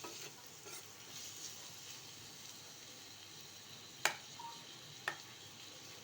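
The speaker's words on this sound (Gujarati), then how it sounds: "ફરીથી આપણે એકવાર હલાવી દઈશું." Chopped onions and tomato cook quietly in a pan for a Gujarati tuvar vegetable dish, a soft low sizzle broken by two sharp clinks of a spoon stirring against the pan.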